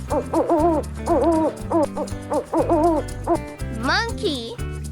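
An owl hoots in a steady series of close, loud calls, five or six in a row, ending in a quick rising screech.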